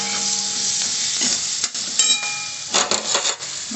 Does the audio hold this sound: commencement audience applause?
no